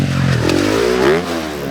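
A Kawasaki KX450 motocross bike's engine roars loud and close on a track, its pitch sweeping upward in a rising rev that peaks and drops back.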